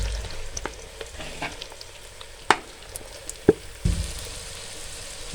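Three medium-sized chopped onions fry in a pan for a chicken handi, a low continuous sizzle with a few sharp knocks of a spoon against the pan and one louder clatter near the end.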